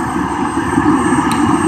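Marine Cobra helicopters warm up at South Lake Tahoe Airport before leaving, a steady droning engine hum with a turbine-like whine, moderately loud and constant, without voices.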